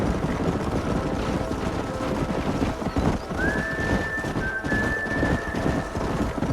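Horses neigh and hooves clip-clop in the Western video game Red Dead Redemption during a wild-horse mission. The hoofbeats are steady and close, and a thin high whistling tone enters partway through and holds.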